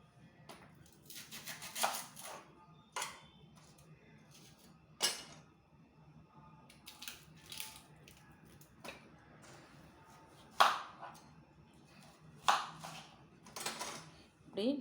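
A knife chopping vegetables into quarters for radish soup, a series of irregular sharp taps on a cutting board, close by, with a person talking over some of the cuts.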